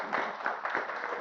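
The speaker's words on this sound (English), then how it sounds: "Big round of applause to Shivani." Scattered applause from a small audience, children and adults at a Sunday satsang, honouring a girl named Shivani; brief, steady clapping at moderate level with no voices over it.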